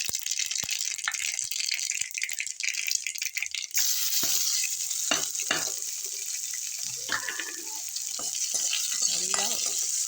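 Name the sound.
crushed onion and garlic frying in oil for rasam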